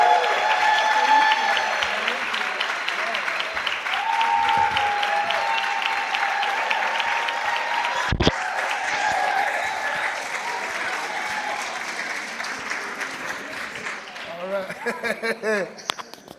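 An audience at a Brooklyn Botanic Garden keynote bursts into sustained, dense applause with some cheering as a speaker is welcomed to the stage, the clapping thinning out toward the end.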